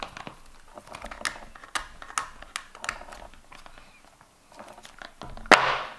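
Sharp cardboard taps, clicks and crinkles come from someone struggling to open a tight Apple AirPods box, scattered irregular handling noises ending in a louder rip of packaging.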